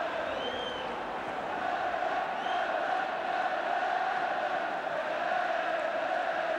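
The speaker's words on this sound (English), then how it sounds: "Totally drowned by the crowd" A football stadium crowd at a UEFA Cup match between Manchester United and Juventus roars continuously after a goal, a dense, sustained wall of cheering that swells slightly partway through, heard from a distance without clear individual voices.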